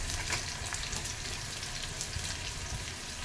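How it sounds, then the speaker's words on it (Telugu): Onion pieces frying in a pan for an okra and onion curry, a steady, even sizzle with faint crackle and some watery hiss, continuous and close throughout. "ఉల్లిపాయ ముక్కలు వేసి వేయించేసేయండి"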